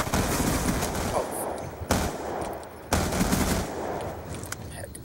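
Rapid-fire gunfire in the game Call of Duty: Black Ops 2 sounds as dense, loud automatic bursts, with two short breaks between long sustained volleys.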